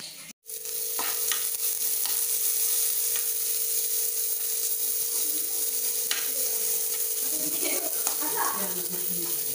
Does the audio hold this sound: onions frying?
yes